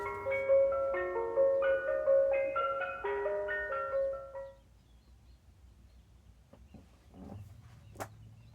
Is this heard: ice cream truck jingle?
yes